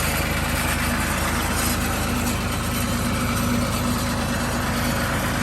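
Restored old engine idling steadily after a restart, a loud, continuous low rumble with an even throb that holds the whole way through, with no talk over it.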